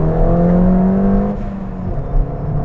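A Ford Fiesta ST fitted with an induction kit revs steadily for over a second, a loud harmonic engine tone that drops and settles to a lower idle-like drone, with a brief blip near the end.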